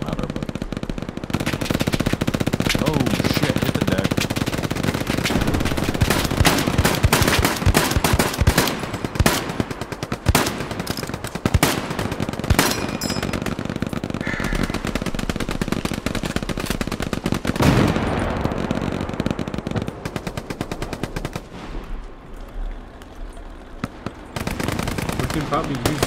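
Sustained automatic and rifle gunfire from the Hell Let Loose war game rattles almost nonstop, loud and dense, with voices faintly talking beneath the battle.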